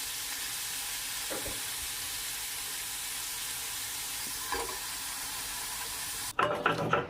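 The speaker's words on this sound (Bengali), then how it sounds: "মাছগুলোকে ভালো করে ভেজে নেব" Prawns marinated in salt and turmeric fry in oil in a wok, a constant close sizzle with a few soft stirring knocks, ending in louder clattering handling of the pan.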